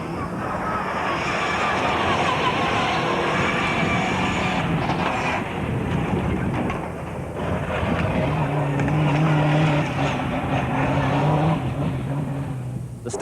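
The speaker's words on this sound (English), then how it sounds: "Mitsubishi team's impressive Pajero, with its distinctive whine of the special competition gearbox." Mitsubishi Pajero rally car with a special competition gearbox at the 1990 Jordan International Rally, its engine and gearbox whine droning steadily and loudly throughout, close by, with no talk.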